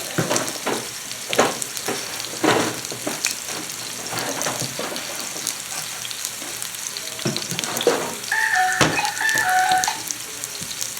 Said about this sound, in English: So we got a nice sear on both sides.